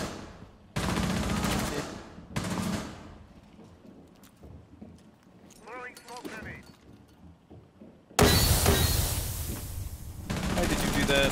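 Gunfire in Rainbow Six Siege, with bursts of loud, broadband shots in several clusters, then a heavy sustained volley near the end, with voices talking around it.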